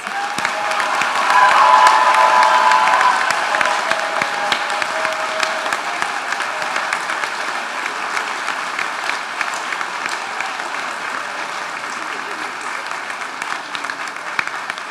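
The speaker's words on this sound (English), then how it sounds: "Can we have a round of applause for all of our graduates?" A large hall audience applauds graduates at a DPT and HPE hooding and pinning ceremony, a dense sustained roar of clapping that swells early then holds steady.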